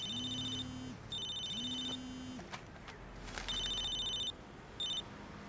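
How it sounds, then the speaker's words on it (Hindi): A mobile phone rings with an electronic tone, repeating in regular bursts separated by short pauses, moderately loud against a quiet background with faint clicks. "अरे तुम्हारा फोन बज रहा है।"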